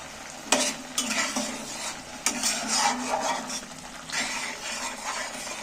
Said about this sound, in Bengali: এবার একটু আলুগুলোর সাথে একটু নেড়ে চেড়ে নেব